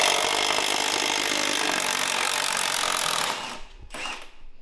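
A wrench and socket work loose the axle bolt on a Coleman B200RSV mini bike, giving a steady, loud grinding, scraping rasp for over three seconds before a pause and a short final scrape.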